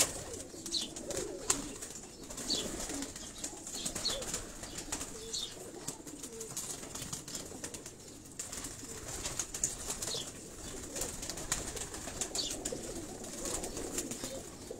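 Pigeons of several breeds coo on a rooftop in Karachi. Soft, repeated coos come close and steady, with occasional wing flaps and faint background noise, and no talk over them.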